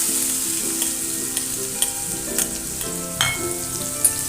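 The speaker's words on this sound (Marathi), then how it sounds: "कांदा व्यवस्थित परतून घ्यायचा" Chopped onion sizzles steadily in hot oil over a tempering of mustard seeds, asafoetida and turmeric for a black bean usal, with occasional sharp pops and stirring clinks close by.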